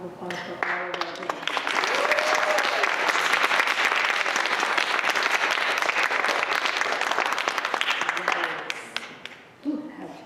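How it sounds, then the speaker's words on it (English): A room applauds the guests at a Harlem Renaissance poetry and prose reading. After a brief voice at the start, sustained hearty clapping swells, then fades near the end as someone begins speaking again. "Can we just have a round of applause for all of our guests?"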